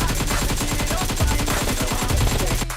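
Rapid sustained automatic fire from an AKM rifle fitted with a canted sight in the mobile game PUBG Mobile, a loud unbroken burst of shots lasting nearly three seconds with no talking over it.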